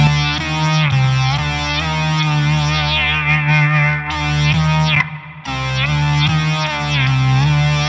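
An electric guitar played through the Eventide H9 Max's Wasabi lead effect produces heavily distorted, sustained lead notes with chorus-like shimmer and echo. The notes bend and swell, break off briefly near the middle, then return loud and saturated.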